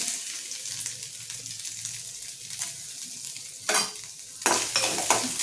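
Coconut pieces sizzling and frying in ghee in a pan, a steady crackle with stirring scrapes and louder bursts toward the end; no talking.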